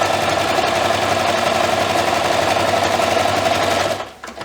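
A sewing machine stitches a quilted hot pad, a steady fast mechanical whirring and needle chatter held close and loud for about four seconds before stopping abruptly.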